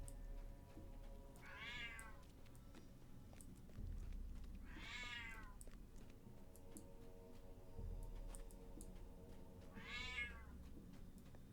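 A video-game cat meows three times at steady intervals, each a clear rising-then-falling cry over a low ambient hum with faint ticking.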